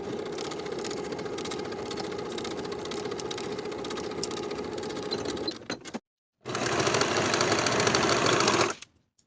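A sewing machine runs steadily as it stitches and finishes the bottom edges of a pants pocket lining, a dense continuous hum that stops briefly, then resumes for a few seconds before cutting out.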